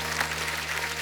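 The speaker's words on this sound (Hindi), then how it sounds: "उनके लिए जोरदार तालियां हो जाएं।" Studio audience applause on a TV comedy show, a brief, dense burst of clapping over a steady low hum.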